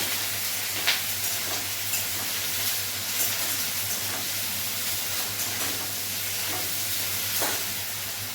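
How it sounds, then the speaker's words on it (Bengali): Ginger-garlic paste fries in a hot pan for a home-cooked lunch curry, a steady soft sizzle with faint stirring scrapes and occasional light clinks, no voices. "ভালো করে ভেজে নেবো, ভালো করে কষে নেবো এটা"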